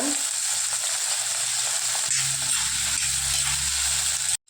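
Steady sizzling of brinjal, onion and garlic frying in hot oil, continuous and close, with faint stirring sounds and no talking.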